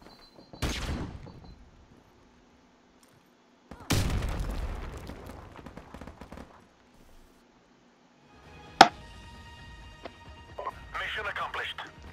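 A grenade detonates in Call of Duty: Modern Warfare Remastered: two heavy, booming blasts with long rumbling tails stand out against near-silence, followed by a sharp crack and scattered game sounds.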